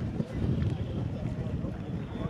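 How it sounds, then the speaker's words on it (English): Steady, heavy wind buffeting the microphone, a low rumbling roar that persists throughout with no pauses. "super windy if you can hear me"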